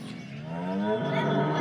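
A milking cow on a dairy farm, four days after calving, lets out one drawn-out moo that rises in pitch and grows louder, heard close and alone.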